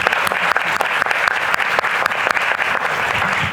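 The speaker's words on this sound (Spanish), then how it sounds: "Por favor, también un fuerte aplauso." An audience at an institutional panel on democratic openness gives a steady, full round of applause to welcome a speaker, dense clapping that holds at an even level from start to finish.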